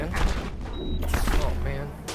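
Gunfire in the Mass Effect video game, a loud flurry of rapid shots and thuds mixed with combat noise, with someone speaking over it.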